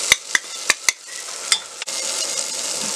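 Salt, chili powder, garam masala and coriander powder fry in a pressure cooker, with several sharp metallic spoon clinks against the pot over a soft sizzling hiss that continues alone afterward.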